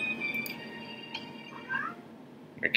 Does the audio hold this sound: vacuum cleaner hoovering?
no